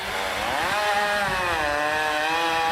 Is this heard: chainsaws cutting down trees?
yes